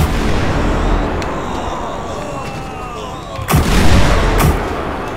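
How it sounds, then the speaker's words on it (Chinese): Explosion-like bursts in the GTA 5 zombie mod, a loud dense roar of gunfire and blasts throughout with a sharper, louder boom rising near the end, a voice talking faintly underneath. "怎么爆炸了？ 哪边爆了？"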